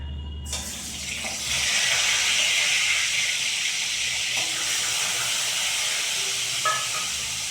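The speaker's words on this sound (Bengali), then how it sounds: "তেলটা গরমই হয়ে গেছে এবার আমি কই মাছগুলোকে ভাজবো" Koi fish go into hot oil in a wok, and a loud, broad hissing sizzle bursts out and continues steadily, close by and with no talking.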